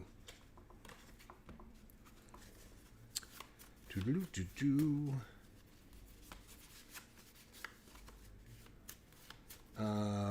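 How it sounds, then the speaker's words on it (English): A deck of cards for a tabletop Stratomatic hockey game is shuffled close by, with soft riffling and patting running through the clip while someone talks over it. "let's finish shuffling these up"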